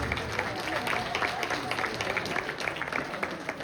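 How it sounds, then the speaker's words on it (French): Crowd applause at a Congolese community celebration in Sherbrooke, honoring the youth committee treasurer: sustained clapping from a gathered audience, dense and fairly close, with a faint murmur beneath. "Est-ce qu'on peut applaudir, s'il vous plaît?"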